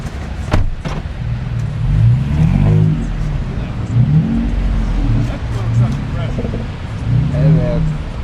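A Chevy Silverado stuck in beach sand reverses out with a steady mid-pitched engine drone that swells and eases in several pushes, close by, while people talk over it.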